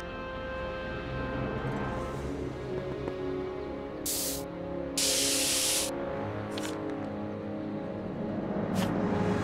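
Short hissing bursts from a spray paint can in the Back to the Future video game, several separate sprays of varying length, one longer blast in the middle, over a steady low background hum.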